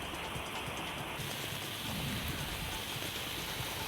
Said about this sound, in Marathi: वादळी वाऱ्यासह झालेल्या पावसानं अनेक भागांमध्ये पाणी साचलं